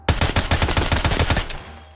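An Ash-12 .50 cal rifle fires in Escape from Tarkov: a rapid automatic burst of about ten sharp, loud, close shots in quick even rhythm, then a short ringing tail.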